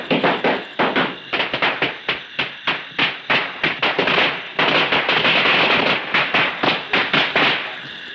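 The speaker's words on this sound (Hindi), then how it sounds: "सूर्या बाबू, ये क्या आप बच्चे छोड़े वैसे पटाखे छोड़े?" Firecrackers set off on Diwali: a long rapid string of sharp, loud bangs, irregular but nearly continuous, crackling close by with no voices over them.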